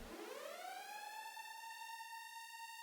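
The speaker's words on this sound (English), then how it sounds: "The fire alarm?" A fire alarm wails in a rising siren tone that climbs quickly and then holds a steady, loud pitch, alone without voices.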